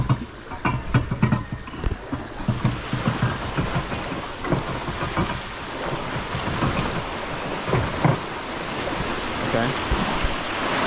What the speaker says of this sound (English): So now the water level here is equalising with the water level here because this is higher. I guess I'll just wait for that to stop sloshing